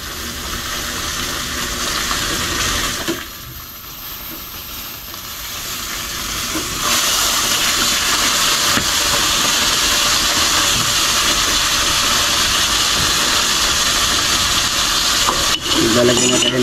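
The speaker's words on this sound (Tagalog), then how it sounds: "Tingnan muna natin itong ating pinirito." Food frying hard in a pan over strong heat, a loud continuous sizzle and crackle that fills the whole stretch, briefly dipping before surging back even louder.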